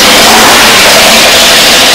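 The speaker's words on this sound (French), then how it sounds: "Le bruit d'un V8, c'est pour nous, amateurs d'américaine, bon, c'est un petit peu aussi la base." A V8 engine fitted to a ride-on lawnmower, rated around 500 horsepower with open exhaust, roars loudly and steadily throughout with a harsh, dense rumble and no voices.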